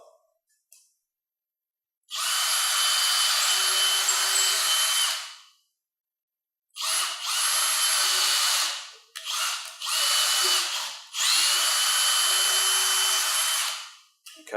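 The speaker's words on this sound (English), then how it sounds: "So Darren will pre-drill that side." Pre-drilling the side bracket holes for a roller blind, a power drill whines in several close bursts: one long run, a pause, then a series of shorter stop-start pulls ending in another long steady run.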